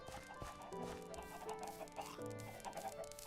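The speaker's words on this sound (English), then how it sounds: "Chicken coop. It's for eggs." A video-game chicken clucks by its coop in a series of short, soft clucks under a faint ambient hum, with no talking.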